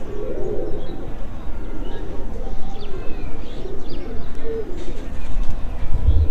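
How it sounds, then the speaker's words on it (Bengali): Pigeons coo continuously on a rooftop, a dense, loud layer of overlapping low calls up close, with faint chirps above. "আমরা সব কবুতর বাইরে ছেড়ে দিচ্ছি"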